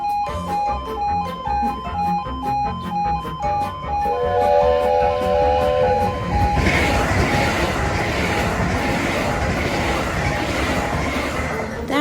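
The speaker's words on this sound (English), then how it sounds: "Here comes the train." A train rushes past a level crossing in Scotland, its crossing bells ringing in a steady repeating pattern before the loud, broad roar of the passing train takes over and fills the rest of the clip.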